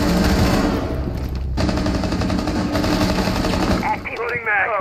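Sustained rapid automatic gunfire rattles through a Rainbow Six Siege round as a player accidentally shoots a teammate, loud and continuous for several seconds before breaking off into quieter game sounds.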